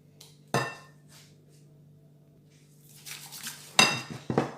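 Salt and pepper get mixed into a quiche filling in a bowl, giving a few sharp utensil clinks and knocks against the bowl, a loud strike near the start and a cluster of clatters toward the end over quiet room tone.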